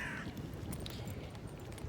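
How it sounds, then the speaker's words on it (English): Crows caw outdoors in a London park, a brief harsh call or two heard faintly over steady city background noise. "The birds have gone wild."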